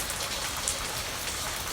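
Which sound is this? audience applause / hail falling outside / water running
hail falling outside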